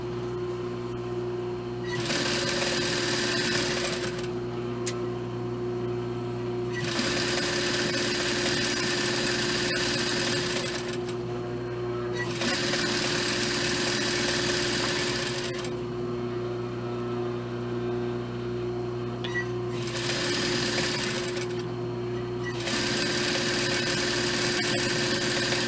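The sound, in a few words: sewing machine stitching a dress seam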